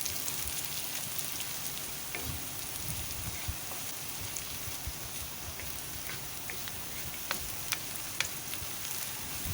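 Onions frying in hot oil in a home kitchen for aloo paratha filling give a steady, dense sizzle with occasional pops and crackles, close and continuous with no talking.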